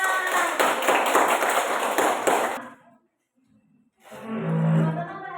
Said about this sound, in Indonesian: Terima kasih, beri tepuk tangan.